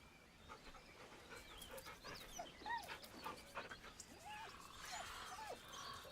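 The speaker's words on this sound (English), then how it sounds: "The dog whimpers nervously," Dog whimpering and panting in the video game Baldur's Gate 3, soft high whines and breathy pants repeating unevenly, faint and close.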